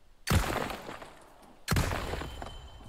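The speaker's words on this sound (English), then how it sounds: "A lot of loud gunshots," Two loud gunshots ring out in the Resident Evil 4 Remake, about a second and a half apart. Each is a sharp, close blast that trails off in a long echoing tail, with no talking.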